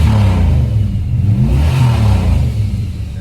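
A turbocharged Dodge Diplomat engine revs loud and close, a rough, throbbing roar that rises and eases without letting up, with no one talking.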